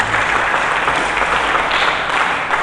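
A church congregation breaks into lively, sustained applause, a dense and loud wash of many hands clapping at once, with a faint crowd murmur underneath.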